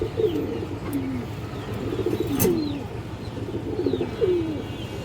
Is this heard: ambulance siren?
no